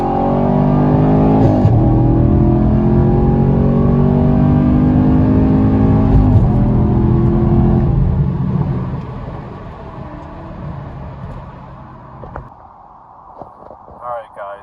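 A Chevrolet Camaro SS 1LE accelerates hard with a no-lift shift, its engine revving up loud and close with rising harmonics, a sharp upshift at full throttle, then a second pull before it fades and winds down.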